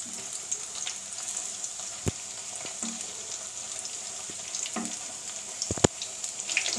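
Chicken pieces for chicken pakoda fry in a clay pot, hissing and sizzling steadily with scattered sharp pops and light clinks close by.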